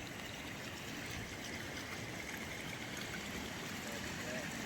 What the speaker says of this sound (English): And the river is raging this morning.